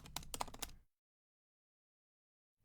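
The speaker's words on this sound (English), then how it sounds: "just type your name" Brief burst of quick keystrokes on a computer keyboard, close and clear, then silence for most of the clip.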